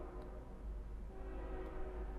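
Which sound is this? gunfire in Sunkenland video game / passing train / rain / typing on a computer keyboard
passing train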